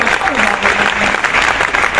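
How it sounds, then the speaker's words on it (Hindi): Applause from an audience at an invited lecture session, a dense burst of clapping heard close and loud with voices mixed in beneath it. "जोर से एक बार बजा दिए तालियां।"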